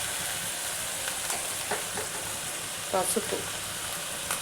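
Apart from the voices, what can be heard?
frying boiled bottle gourd seeds in a pan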